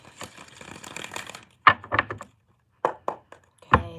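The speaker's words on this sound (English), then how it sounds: "Just want to do one more shuffle here." A deck of tarot cards being shuffled, a soft riffling flutter followed by a few sharp, separate taps and slaps as the cards are squared up nearby.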